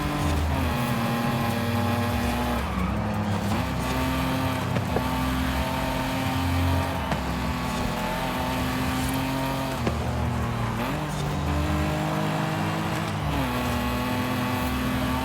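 A Porsche race car in Forza Horizon 5 drones along with a steady, loud engine note that rises and dips through repeated gear shifts roughly every few seconds, tire and wind noise underneath.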